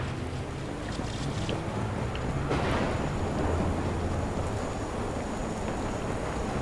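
Steady heavy rain in the video game Watch Dogs hisses throughout, with a loud thunder crack rumbling in around the middle before fading back into the downpour.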